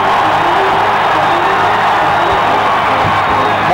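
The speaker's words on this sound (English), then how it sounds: "And now we'll see the crowd pick it up." A 1986 college basketball arena crowd, Tulsa Golden Hurricane at Bradley Braves, roars loudly and steadily, a dense unbroken wall of cheering and yelling throughout.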